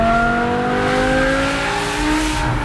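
A naturally aspirated BMW accelerates hard, its engine note climbing steadily in pitch through the gear, loud and close with no talk over it.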